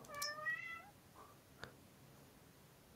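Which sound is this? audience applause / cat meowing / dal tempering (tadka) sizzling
cat meowing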